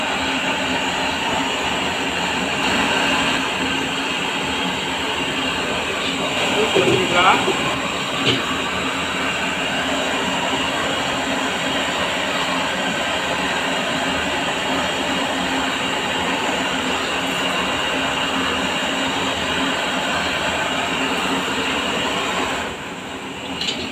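A strong gas flame roars under a rusty wok as the rust is burned off, a loud, steady broadband rushing that continues throughout with a few faint knocks and scrapes.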